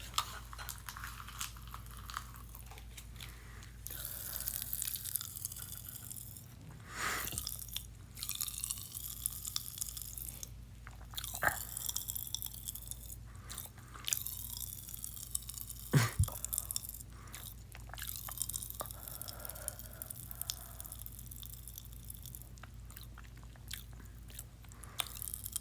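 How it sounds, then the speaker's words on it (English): Popping candy fizzes and crackles, a dense spray of tiny sharp pops and snaps in irregular bursts, close and crisp, with no speech. "That's like the loudest popping candy I've ever heard."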